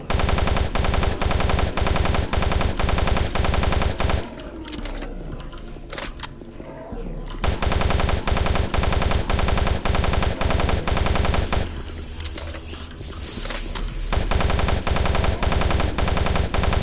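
Sustained rapid automatic gunfire in DOOM 3 Enhanced Edition, loud and continuous in long bursts, broken by two pauses of a few seconds each where the firing stops before resuming.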